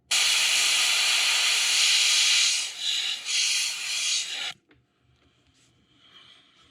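Airbrush spraying paint onto a crankbait fishing lure, a steady bright hiss running continuously for over four seconds with brief dips, then stopping and leaving quiet room noise.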